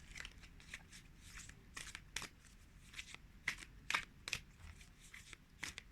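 Cards being shuffled repeatedly, a series of soft papery riffles and flicks with crisp snaps, close and fairly quiet, no talking.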